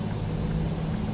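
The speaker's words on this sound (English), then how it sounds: "That was a plane that just flew overhead." An airplane passes overhead as a low, steady droning hum, brief and continuous, with no talk.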